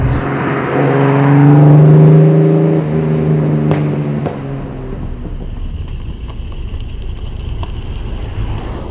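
The 'Godzilla' car with a brass racing clutch is driven close by. Its engine gives a deep, throaty rumble that swells as it revs, then eases off and fades into faint background noise.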